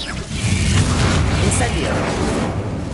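Bombarda spell blasts from Hogwarts Legacy gameplay, a series of booming bursts and low rumbles layered with game effects and a character's voice, dense and continuous throughout.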